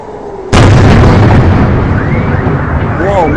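A Grad rocket explodes in Ashdod with a sudden loud, close blast that rolls into a long rumbling roar, while startled voices talk over the aftermath.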